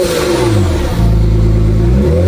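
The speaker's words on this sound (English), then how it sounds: "Give it some revs." Modified car engine revving up close, with loud rising and falling throttle sweeps, a brief drop near the one-second mark, then climbing again, with no speech.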